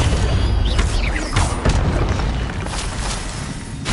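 Spell blast from Expelliarmus cast in Hogwarts Legacy on PS4, a short booming burst with a crackling magical whoosh amid ongoing combat effects, loud and close.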